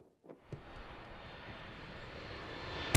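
An airplane drones steadily overhead in an animated cartoon scene, a sustained engine rumble that rises after a couple of faint knocks and swells toward the end.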